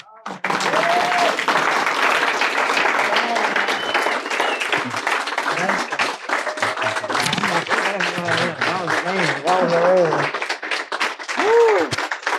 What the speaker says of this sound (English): just keep clapping